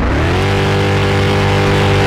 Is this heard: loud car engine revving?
yes